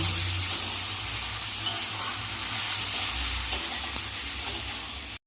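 Prawn masala sautéing in a pan, a steady close sizzle and fry hiss with occasional stirring scrapes, continuing without talk until it cuts off.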